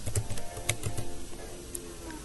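Quiet, quick typing on a computer keyboard, a brief flurry of light key clicks in an uneven rhythm with a soft hum of room noise behind.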